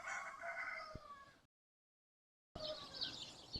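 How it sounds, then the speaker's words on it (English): Two rooster crows, each loud and drawn out with a rising then sustained call, separated by about a second of silence; a sharp click sounds during the first crow. "I got 3 roosters."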